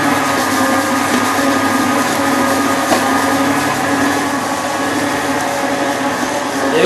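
A kitchen robot mixes biscuit dough ingredients under a protective guard, giving a loud, close, steady motor whir with a grinding texture that holds unbroken throughout.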